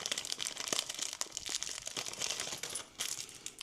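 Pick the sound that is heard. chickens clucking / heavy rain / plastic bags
plastic bags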